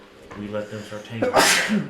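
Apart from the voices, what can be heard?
sneeze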